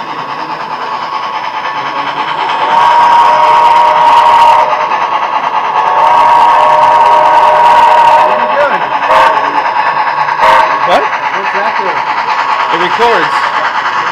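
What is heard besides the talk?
running model train locomotive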